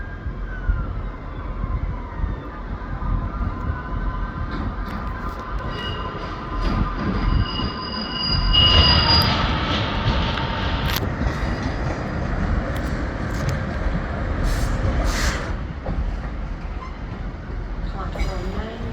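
Train moving through Edinburgh Waverley station, a loud, steady rumble of wheels with drawn-out metallic squeals rising midway and faint voices in the background.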